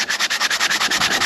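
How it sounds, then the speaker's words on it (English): Rapid, rhythmic sanding strokes on a boat's propeller shaft, about ten back-and-forth passes per second, steady and close with no talking. "sanding it down a bit to get a good surface"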